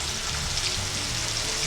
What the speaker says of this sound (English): We're gonna let these babies fry up so they get a nice little golden brown.